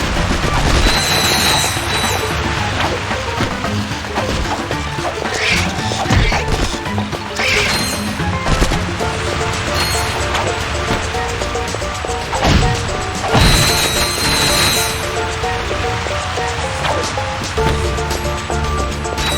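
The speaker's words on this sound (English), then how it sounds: "Aim and fire the target on the gate to open it." Weapon fire from the Ratchet & Clank: Size Matters video game shoots at a target on a gate to open it, a dense, loud barrage of crashes and thwacks heard over continuous game music and effects.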